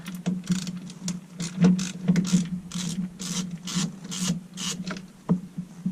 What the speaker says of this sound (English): we're gonna remove this cover. It's got three screws in it.